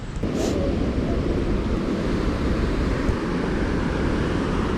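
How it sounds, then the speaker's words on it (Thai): A waterfall in the Gorner Gorge near Zermatt, Switzerland, pours close by with a loud, steady, unbroken roar of rushing water and no voices. "มีน้ำตก"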